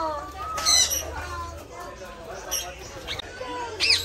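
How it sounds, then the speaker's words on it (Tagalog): Birds in the Bohol countryside give sharp, squawking calls in a few short bursts, some close and bright, while people talk nearby. "Dito, oh, maraming ibon dito."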